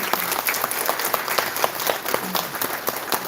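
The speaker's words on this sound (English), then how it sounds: "Let's have a round of applause." An audience at an education conference applauds for Dr. Joseph Emmanuel, with sustained clapping in which a few individual claps stand out as sharp near hits.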